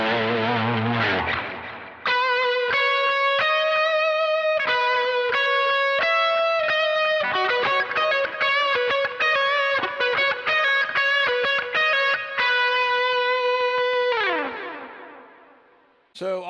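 Electric guitar lead through an HX Stomp with Lightspeed and 1981 drive engaged together, a sustained, effects-laden distorted melody of repeated notes with chorus shimmer, ending in a descending slide and fade.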